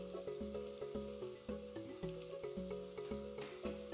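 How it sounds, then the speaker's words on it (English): Flour-dusted cod frying in a pan, Caribbean style, with a steady close sizzle and crackle over faint background music. "we're just going to fry it as it is"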